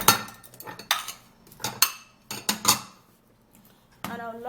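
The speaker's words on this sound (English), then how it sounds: "I would love to sieve it into this bowl" A metal spoon or sieve clinks and scrapes against a bowl in a few sharp bursts with quiet gaps between them while cucumber juice is strained; no talking.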